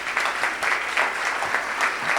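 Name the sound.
audience applause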